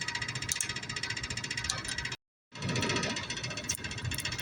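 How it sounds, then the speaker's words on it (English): An impact gun hammers rapidly at the nuts on a Bluebird overseeder in two close bursts split by a brief pause, its rattling loud and near. "use the impact gun and just put a hold back wrench on the back"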